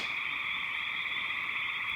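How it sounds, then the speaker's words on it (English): A dense, steady chorus of frogs croaks continuously at night beside a lake in the Wisconsin woods, heard from a short distance and faint but unbroken, with no talking. "I thought I'd just walk outside so you could hear the frogs."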